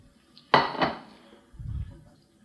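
Pot of fettuccine pasta set down on a kitchen counter, one sharp clattering knock of metal followed by a smaller rattle, then a soft low shuffle as it settles, close and alone.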